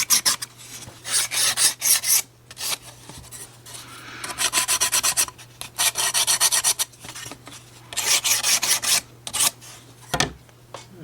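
Repeated rasping strokes of sandpaper on small wooden model pieces for a 3D bookend kit, in rhythmic bursts with short pauses between, close and fairly loud.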